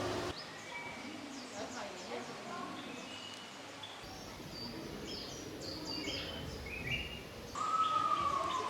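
Birds chirp and tweet in a humid zoo bird sanctuary at Schönbrunn in Vienna, with many small calls scattered over a steady wash of ambient noise and a brief clear whistle near the end.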